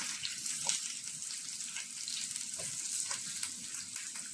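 Capsicum and onion cubes fry along with paneer in a pan, a soft, fairly distant sizzle with faint stirring clicks, steady throughout and without voices.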